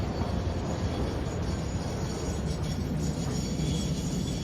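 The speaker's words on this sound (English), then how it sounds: "Looks like there's a small window for us to have the nitrogen train going through here." A nitrogen-hauling freight train in the factory-building game Satisfactory rolls past with a steady broadband rumble and rail noise, continuous and fairly loud.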